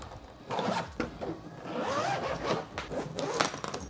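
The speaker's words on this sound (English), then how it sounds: "But what I'll do right now is zip it back up," A Level8 luggage suitcase zipper is pulled closed in several close, raspy strokes of varying length, loud and without talk.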